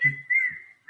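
A person whistles a short, clear tune in a few brief held notes, close and fairly loud, with no talking over it.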